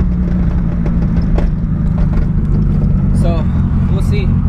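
An old car's engine idles roughly and unevenly close by, a steady low churning drone with slight irregular clatter, while someone talks over it.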